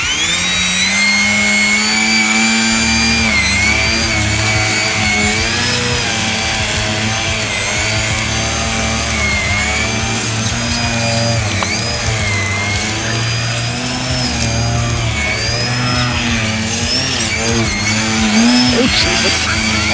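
An E-flite Eratix 3D RC airplane in flight, its electric motor whining steadily and rising and falling in pitch as the throttle changes, loud and continuous for the whole stretch.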